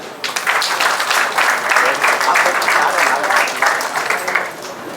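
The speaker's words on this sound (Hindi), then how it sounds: "एक ताली हो जाए।" Wedding guests break into sustained applause, a dense crackle of many hands clapping steadily for about five seconds before tapering off at the end.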